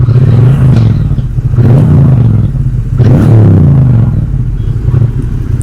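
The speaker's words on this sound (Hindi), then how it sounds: "जो लोग भी पहली बार सुनते हैं उनको बहुत ज़्यादा अच्छा लगता है इसका एग्जॉस्ट" Triumph Bonneville T120 motorcycle exhaust rumbling loud and close, with a steady low throb swelling into three rev-like surges.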